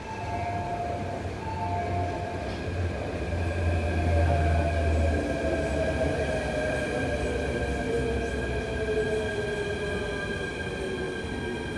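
A K train pulls into Sunny Bay Station with a steady rumble and sustained high tonal whines from its motors and wheels. The sound holds at moderate loudness throughout, with no speech.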